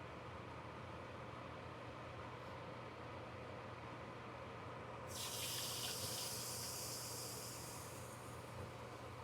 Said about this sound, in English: you're going to add your milk